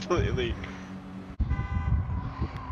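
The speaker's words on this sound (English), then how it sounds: "That was a player panic honk, if I've ever heard one." A car horn honks in Gran Turismo 7 during a Hot Hatch race at Grand Valley, with steady engine drone and people talking over it.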